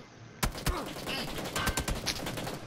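Gunfire in a shooting video game: several sharp shots crack out in an uneven burst, some close and punchy, others further off, over a steady background din with no talk.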